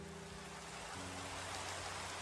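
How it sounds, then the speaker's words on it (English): Soft rain falling in the video game Minecraft, a steady even hiss of rainfall with faint low tonal hum underneath, heard alone without voices. "there's a Minecraft with soft rain"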